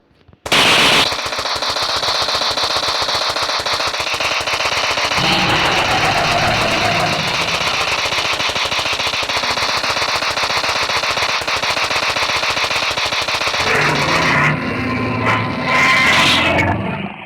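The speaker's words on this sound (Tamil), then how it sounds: "இப்போ ஒரு குறியை வச்சு கரெக்டாக ஹெட்ஷாட் போட போகிறோம் கைஸ்" Rapid automatic gunfire rattles loud and continuous in a dinosaur mod of the Indian Bikes video game, with an engine-like drone beneath, a brief shift midway, and a final burst after a short pause, with no talking.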